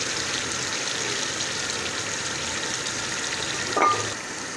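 Keema and potatoes frying in a pan, a steady close sizzle with a brief clatter of stirring near the end, no voices.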